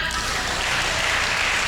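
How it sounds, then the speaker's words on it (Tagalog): Church congregation bursts into applause during a sermon, a dense, steady wash of clapping hands that fills the room for a short burst. "Palakpak!"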